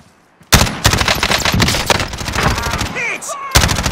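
Loud, close bursts of rapid gunfire in Call of Duty: Modern Warfare, starting abruptly after a short quiet and continuing with a brief pause near the end, a voice shouting in between.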